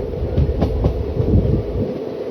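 The Ratnachal SF Express rolls along the tracks with a steady rumbling roar and a few soft clickety-clack beats, close and continuous, with no voices.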